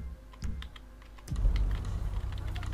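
Computer keyboard keys clicked in quick, light taps while playing GTA V, then a louder low in-game rumble sets in partway through as the tapping continues.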